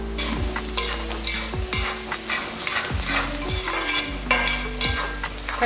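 Chicken curry sautéing with garam masala powder in a pan, a close, steady sizzle broken by repeated scraping stirs and metallic clinks of a spoon against the pan about once a second, with no talk.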